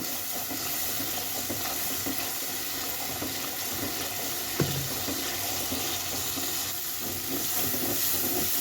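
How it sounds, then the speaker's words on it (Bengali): Ground spices frying in hot oil with garlic and a little water for a pigeon meat curry, a steady close sizzle running throughout with faint stirring clinks, one brief knock near the middle, no voices. "মশলাটা কষে নেব।"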